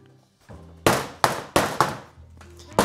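Soap moulds are banged on the floor during lavender and sage soap making, giving five sharp, loud thuds in quick irregular succession, each with a brief clattering decay, and no talking.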